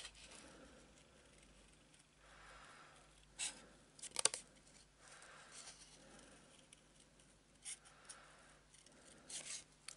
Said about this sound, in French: Bien sûr, mon papier à motif. Et pareil, je découpe la forme.